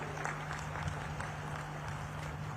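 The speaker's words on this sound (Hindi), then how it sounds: "एक बार हाथ उठाकर जोर से ताली बजाइए भाइयों बहनों" A large audience at the closing ceremony of the Bastar Pandum cultural festival claps loudly and steadily, a dense, continuous wash of applause with no clear voices above it.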